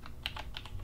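Keystrokes on a computer keyboard as a beginner types a search for music, several quick clicky taps in an irregular rhythm, close and moderately quiet.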